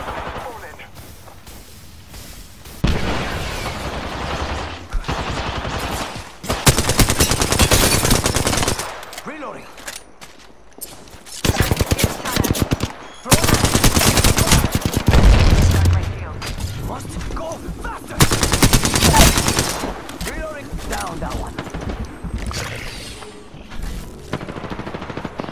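Rapid gunfire bursts from the battle-royale video game Apex Legends, loud sustained automatic volleys in several long runs with short gaps between, heavy impacts and explosions mixed in, with players talking over the action.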